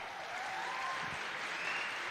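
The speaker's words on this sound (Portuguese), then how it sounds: "Vamos aplaudir o Senhor?" A church congregation applauds during a worship service, steady moderately loud clapping from a crowd, sustained for a couple of seconds without talk over it.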